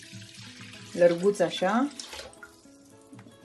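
Water poured into a wide cooking pot for a Galician-style fish dish, a short splashing gush of about one second under a woman's speech, quiet kitchen surroundings before and after.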